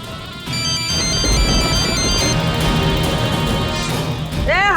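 A telephone ringtone plays a steady electronic melody through a domestic scene, continuing loudly for several seconds with some clattering and a brief voice underneath.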